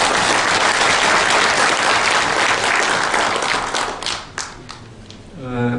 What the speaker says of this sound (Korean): 한번 박수 보내주시기 바랍니다